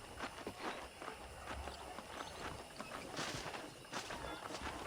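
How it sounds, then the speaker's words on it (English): Horse hooves clip-clop at a walking pace across a ranch in the video game Red Dead Redemption on PC, a fairly quiet, irregular stream of soft thuds over faint background ambience. "I picked out a fine horse for you."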